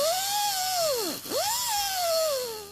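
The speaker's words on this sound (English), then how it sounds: "I used a die grinder with a cutoff wheel to remove both edges of the bracket" A die grinder fitted with a cutoff wheel slices through a steel bumper bracket on a Jeep Wrangler JKU, giving a loud, steady high-pitched whine that sags sharply midway as the wheel bites, then climbs back.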